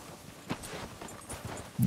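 A horse's hooves walk over snowy ground in the video game Red Dead Redemption 2, faint soft irregular thuds at a slow pace, with no talk.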